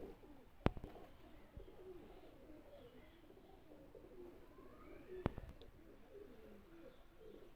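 Teddy pigeons, a male and female pair, coo softly in low repeated phrases over a quiet background, with two sharp clicks or taps breaking in.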